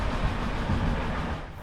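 A historic Malaxa railcar pulls away from a station toward the Pitești depot, giving off a steady broadband engine and rolling rumble at fairly close range that eases slightly as it goes.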